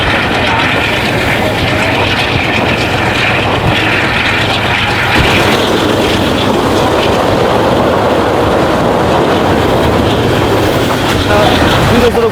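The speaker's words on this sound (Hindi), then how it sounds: "यही वो आवाज़ है AG30 की जिसको सुनने के लिए आज कराची एक्सप्रेस का इंतखाब किया है" AG30 diesel locomotive hauling the Karachi Express through Sindh, a loud continuous engine roar with steady rolling rumble that persists throughout.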